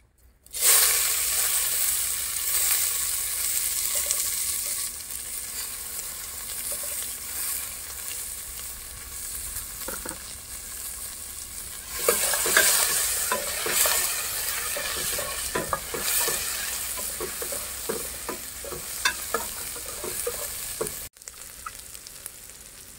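Onions frying with spices in a pan for a big fish mandi, a continuous loud sizzle and hiss with repeated scraping stirs growing busier midway, close up and with no one speaking.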